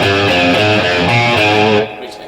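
Electric guitar plays a well-known riff unmuted, a driving repeated bass-note figure with a slightly distorted tone, loud and close, stopping abruptly near the end.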